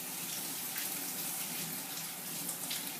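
Tap water runs in a steady, unbroken stream while salmon is rinsed under it at a kitchen sink, filling the whole stretch at an even, moderate level.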